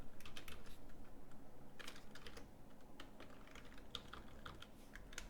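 Keys tapped quickly on a graphing calculator while an equation is entered, a close, steady run of light clicks and presses with brief pauses, no voice.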